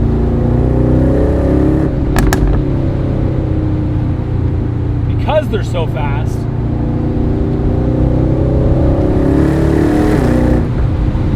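A 2026 Aston Martin Vantage Roadster engine drones loudly and continuously from inside the cabin with the roof down, rising and falling in pitch with wind rush, while a person talks briefly over it.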